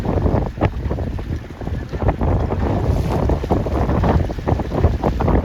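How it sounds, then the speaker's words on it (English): Steady, loud wind roars across the microphone while sailing a 29er dinghy in about 11 knots, with water rushing and slapping against the hull throughout and no talk. "Oh, this is good wind. This is solid 11 knots coming here."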